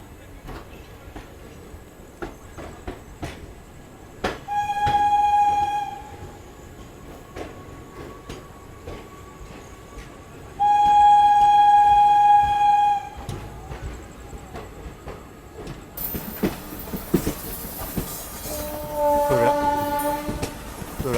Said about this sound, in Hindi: अपनी ट्रेन का अराइवल हो रहा है बरौनी जंक्शन रेलवे स्टेशन पे